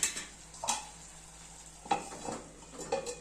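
Cauliflower and peas are turned over in hot oil in a pan, with a few clinking spatula strokes against the metal over a faint sizzle, quiet and close.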